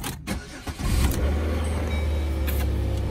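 A car at an insurance auto auction cranks over and its engine catches around the one-second mark, then settles into a steady, loud idle that runs on to the end with no talking.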